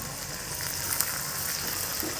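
Meat frying in a pan with garlic paste, ginger paste, dried chili and cumin paste, a steady close sizzle with faint stirring scrapes throughout.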